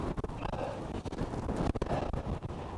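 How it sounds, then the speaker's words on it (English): Wind buffets a cyclist riding an undulating coastal route in Norfolk, a rough, gusty roar across the microphone with irregular thumps and surges, fairly loud and steady, with no talking. "By golly, the wind has swung round. It's in my face again."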